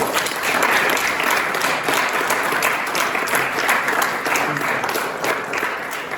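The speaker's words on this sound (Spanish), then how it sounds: "Quiero que recibamos con un fuerte aplauso al maestro Esteban." Sustained applause from a school audience welcoming a guest sociologist, Esteban, a dense, steady wash of many hands clapping at even loudness throughout, with no speech over it.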